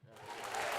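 A small studio audience breaks into applause, a short swell of clapping that rises quickly and stays steady.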